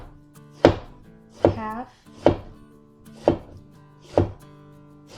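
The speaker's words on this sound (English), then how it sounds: "Okay, next we will cut up a tomato." A knife cuts through a tomato on a board for a salad: five or six sharp, evenly spaced chops, close and distinct against quiet. A single word is spoken.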